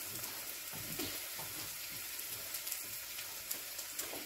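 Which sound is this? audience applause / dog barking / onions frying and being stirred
onions frying and being stirred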